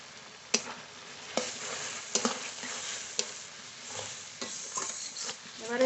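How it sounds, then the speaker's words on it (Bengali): Spice masala with salt and turmeric being stir-fried for a country chicken curry: a soft, continuous sizzle with a few sharp spatula scrapes against the pot, fairly quiet and without speech. "মশলা খুব ভালো করে কষিয়ে নিয়েছি"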